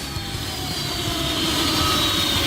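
A small jet turbine engine runs on jet fuel at a thrust test, a loud, steady roaring whine that swells slightly toward the end, with no talk.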